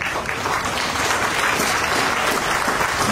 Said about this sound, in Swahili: Hao wanaweza kusimama walipo na tuwapongeze kwa makofi.